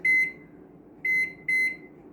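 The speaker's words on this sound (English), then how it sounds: "We're gonna put them in the microwave for about 2 minutes." A microwave oven with potatoes inside beeping: three loud, clear electronic beeps, the first alone, then two more in quick succession after a pause, over a faint background hum.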